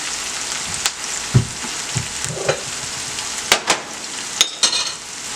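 Corned beef, cabbage and rice sautéing in a pan on a low stove, with steady sizzling and occasional clinks and scrapes of a utensil stirring.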